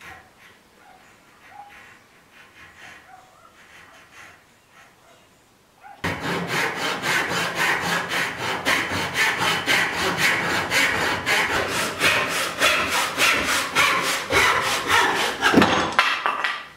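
Hand saw cutting wood for a shaker workbench top joint: after a few quiet seconds, a loud run of rapid, even back-and-forth rasping strokes continues to the end, close and alone.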